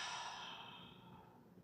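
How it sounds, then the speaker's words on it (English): A deep, slow breath out through an open mouth during a beginner breathing practice: one soft, airy exhale close by that gradually fades, with no talking. "Open your mouth, take a deep breath out."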